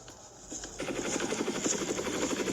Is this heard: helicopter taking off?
yes